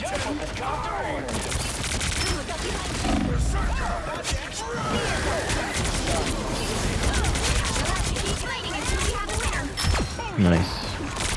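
Rapid gunfire from Star-Lord's twin blasters in the Marvel Rivals video game, a dense, continuous stream of shots with scattered sharp impacts throughout, mixed with in-game effects and a commentator talking over it.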